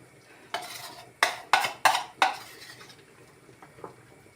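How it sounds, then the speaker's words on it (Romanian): A spoon knocks and scrapes against a pot of Romanian goulash with flour dumplings, four or five sharp clanks in quick succession, then a fainter one, in an otherwise quiet kitchen. "Acum eu o să amestec numai să nu să prindă"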